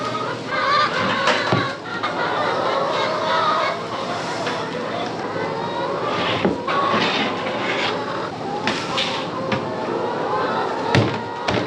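Chickens cluck and squawk nearby on a farm amid a busy, noisy background, with people talking and occasional clunks throughout.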